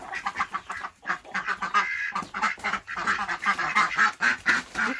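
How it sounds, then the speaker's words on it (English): Several ducks on a small farm quack repeatedly in uneven bursts, fairly close and loud, some calls overlapping into a busy chatter with only brief gaps. "The ducks are just like going in a circle."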